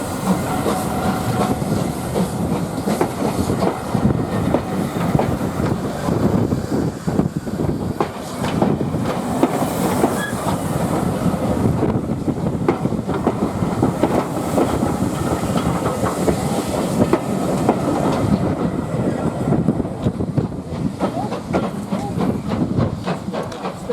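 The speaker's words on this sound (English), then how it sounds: "Seen with a train bound for Loughborough heading into platform 2 is 92214 9F, Leicester City." The 9F steam locomotive 92214 "Leicester City" works a Loughborough-bound train into platform 2 on the Great Central Railway during a steam gala, with a steady rumble, hiss and clicking wheels close by throughout.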